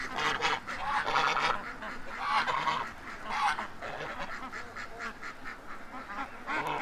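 A flock of ducks calls in the morning, with continuous overlapping quacks and honking, close and fairly loud, and a voice faintly mixed in.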